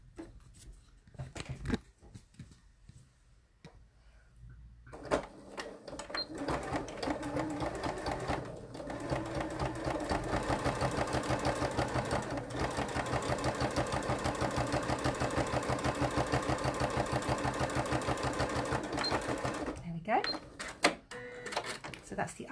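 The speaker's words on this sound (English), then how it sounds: "I'm going to stitch fairly close to the stitching that was already there." Sewing machine stitching a welt pocket bag, a steady rapid mechanical clatter running continuously for about fifteen seconds after some quiet handling sounds, close and moderately loud, stopping with a few clicks.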